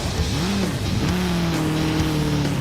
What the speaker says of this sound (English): Okay, Tony, get a little heat in those tires